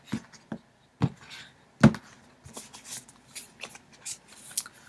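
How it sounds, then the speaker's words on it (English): A tarot deck is cut and shuffled close by, with several sharp riffles and slaps early on, then a run of softer card flicks and shuffling sounds, with no talking. "I'm cutting the deck"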